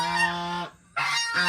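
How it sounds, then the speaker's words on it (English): Geese honk loudly and close by in the countryside, giving two long nasal calls separated by a brief pause. "I've heard these geese for 3 years."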